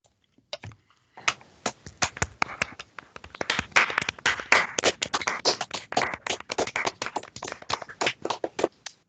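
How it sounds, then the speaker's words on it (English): A round of applause at a council meeting for a councillor, sparse individual claps building into a ragged, uneven patter, close and dry, as if from a few people in separate rooms. "I think we should all do a round of applause."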